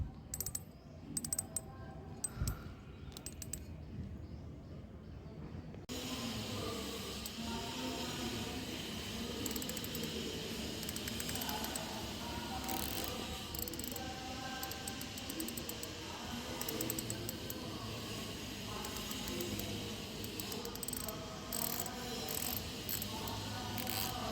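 A Takumi GL fishing reel's ratchet ticks in quick, light bursts, close up and quiet against a faint room hush.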